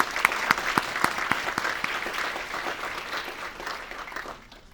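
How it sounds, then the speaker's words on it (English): An audience at an organization's talk bursts into warm applause for a newly introduced director, dense clapping that starts strong, holds steady for several seconds, then thins and fades. "Let's give her a round of applause."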